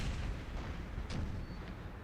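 Cannon and musket fire from a Napoleonic battle in the strategy game Napoleon Total War, a dense continuous rumble of booms and crackling volleys with one sharper report standing out midway, no voices.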